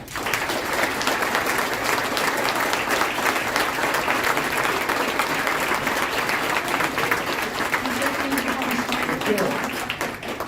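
Sustained applause from a breakfast audience welcoming Detroit Mayor Mike Duggan at a Detroit Free Press event, steady and dense across the whole stretch with no break.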